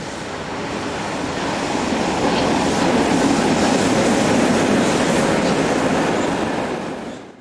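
Train running on the Rübelandbahn railway in the Harz Mountains, a steady loud rumble with faint rhythmic clatter of wheels on rails, holding level before fading slightly at the end.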